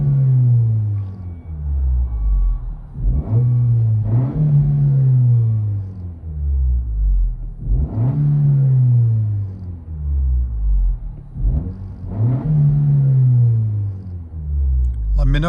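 Inside a 2025 Honda Civic Si with a six-speed manual and an AWE Tuning 180 cat-back exhaust, a deep engine drone rises and falls through repeated revs and gear changes, heard close and loud within the cabin.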